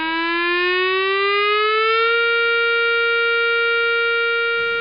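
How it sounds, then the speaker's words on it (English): An all clear siren at an industrial site rises steadily in pitch for about two seconds, then holds a loud, continuous electronic tone on its own before cutting off with a brief burst of noise. "The all clear is like this."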